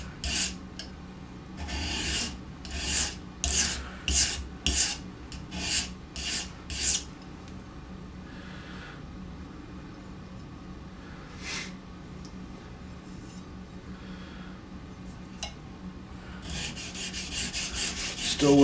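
A knife blade rasps across the stones of an Edgewright sharpening system, working one side to raise a burr: a run of rhythmic, close strokes, then quieter scattered scrapes and a final burst of rubbing.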